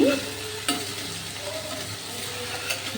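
Garlic, ginger paste and coriander leaves fry together in a pan, giving a steady close sizzle with a few faint stirring taps and scrapes and no speech.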